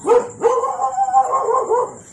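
A dog outside at night barks and howls in drawn-out, yowling calls, two bursts close together, loud and clear with no talk, heard from a tent.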